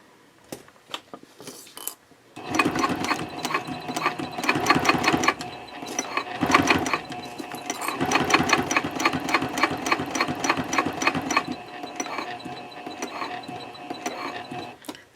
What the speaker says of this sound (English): I'm going to stitch 1/8 of an inch away from the inner edge of the binding right here